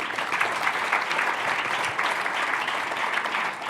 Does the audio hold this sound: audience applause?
yes